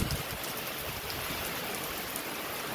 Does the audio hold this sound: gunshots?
no